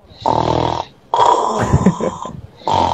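A voice imitates snoring in three harsh, rattling bursts separated by short pauses, loud and close with no other talk.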